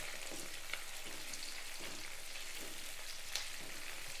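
Tomato and curry leaves sauté in a pan with a steady, faint sizzling hiss and a couple of soft stirring clicks, heard close and alone.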